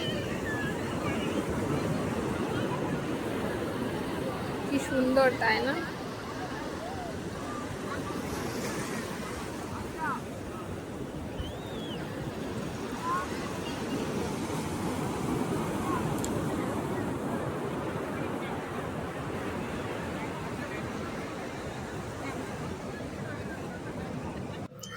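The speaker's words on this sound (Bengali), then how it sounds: "জলের ঢেউটা আরো বেড়ে গেল।" Ocean waves roll onto Thiruvanmiyur beach in the evening, a continuous low surf wash with wind buffeting the microphone, while a person speaks briefly over it.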